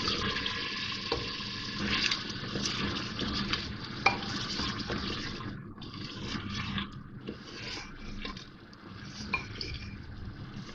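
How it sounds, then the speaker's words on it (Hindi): Beef with garlic ginger paste sizzles and fries in a pot, with a constant crackling hiss broken by scraping stirs and clinks of the spoon against the pot, close and steady, no talking. "लहसुन अदरक डाल के मैंने थोड़ा सा भून लिया है इसको"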